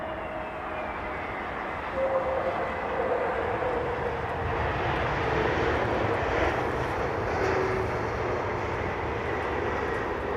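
A jet airliner roars overhead near runway 27R, a loud, sustained broadband engine rumble that swells and holds steady, with no speech over it.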